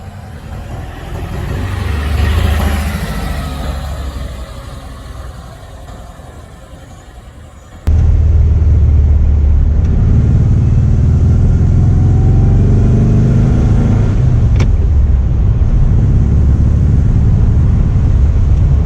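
A Porsche B1600 Super's 1.6-liter engine, as heard in the game Porsche Unleashed, revs up and falls back at moderate level, then jumps to a loud, sustained roar that holds steady to the end.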